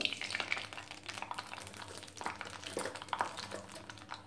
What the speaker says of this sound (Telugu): ఇప్పుడు ఒక బాణల్లో ఒక నాలుగైదు స్పూన్లు వేరుశనగ నూనె వేసామండి ఇందులో పోపు సామాన్ ఆవాలు